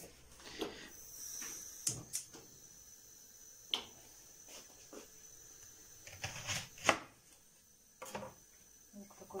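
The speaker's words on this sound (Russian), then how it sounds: "Лук такой большой, поэтому использую один. Пополам перерезать." A knife cuts a large onion in half on a kitchen board, giving a few crisp, scattered clicks and taps. They are quiet and sit under a calm voice, with a faint high hum behind.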